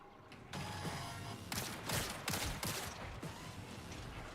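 Gunfire in Bungie's video game Marathon, rapid bursts of shots cracking in several clustered volleys over a low mechanical background, fairly quiet overall with sharp repeated impacts and no talking.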